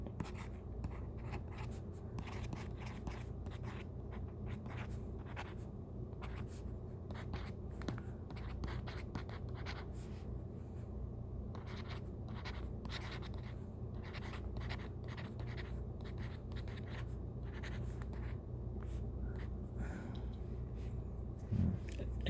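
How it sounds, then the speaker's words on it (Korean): Pen scratches on paper while working through a quantum mechanics physics problem: soft, steady, close strokes and taps continuing for over twenty seconds in a quiet room. "그래서 이제 이렇게 한번 써볼게요."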